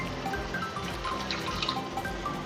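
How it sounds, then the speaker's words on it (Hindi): Water is poured into turmeric and crushed chillies frying in a pan. It makes a steady, close sizzle and bubbling hiss lasting a few seconds, with no voices. "और थोड़ा सा यहाँ ऐड करेंगे हम पानी।"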